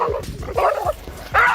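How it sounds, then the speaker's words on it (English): A dog yelps and whimpers after an electric shock, giving several sharp, close yips in uneven bursts with short pauses between them. "a dog getting an electric shock"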